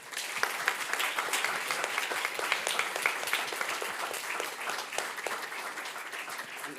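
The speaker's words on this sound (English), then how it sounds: "One more round of applause for Deepak and our panel." Sustained audience applause after a Supreme Court term preview panel discussion, dense steady clapping from a crowd filling the whole stretch at even loudness.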